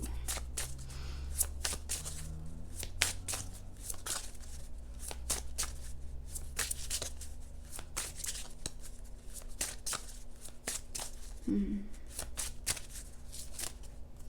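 Tarot cards are shuffled and riffled continuously at close range, with crisp repeated flicks and slides of the deck while cards are pulled from piles, faint and steady with no talking.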